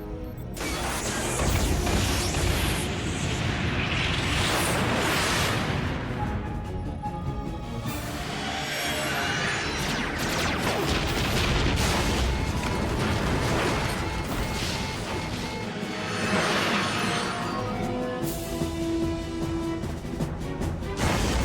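Sci-fi starship weapons fire in a dense, loud barrage during a space battle, with crashing blasts, bursts and mechanical clatter rolling continuously without a break.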